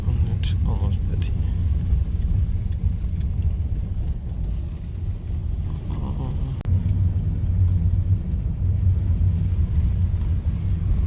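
Car driving along a road in rural Malawi near Lilongwe, a steady low engine and road rumble running throughout at close range, with brief talk over it.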